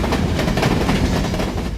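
A loaded or empty coal train on the Powder River Basin line bound for the Bel Air Mine rumbles past close by, a steady dense roar with rapid wheel clatter and no pauses.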